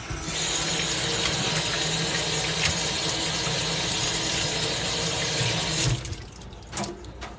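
Chicken backs washed under a running kitchen tap for Jamaican chicken back soup, a loud, steady rush of water close by that cuts off near the end, leaving faint handling sounds.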